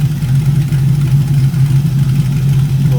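LS-swapped 1975 Pontiac Firebird Formula idling close by, a steady loud low exhaust rumble with an even throb and no voices.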